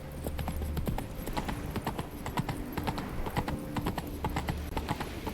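Roach, Geralt's horse in The Witcher video game, trots along with quick, even clip-clop hoofbeats that stay close and continuous, with no talking over them.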